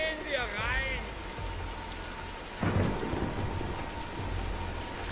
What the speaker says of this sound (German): Nein, wir warten den Sturm ab.